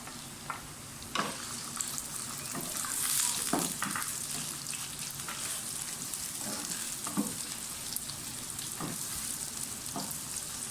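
Onions sizzling in hot cooking oil in a pan for a masala bhindi recipe, a steady bright frying hiss with occasional scraping stirs, close and continuous with no talk.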